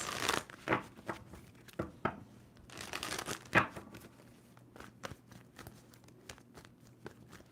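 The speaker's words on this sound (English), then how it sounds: "Two more shuffles for Pisces." Tarot cards being shuffled by hand, close and quiet: irregular papery riffles, crinkles and soft slaps come in short bursts with gaps between them.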